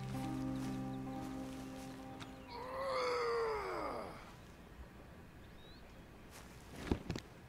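Cat in Red Dead Redemption 2: a single drawn-out, descending yowl, clear and close, rises over quiet ambience and is followed by soft rustles and a sharp click.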